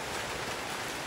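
Steady, dense hiss of prolonged heavy rain falling during flash flooding, even and unbroken throughout, with no voices.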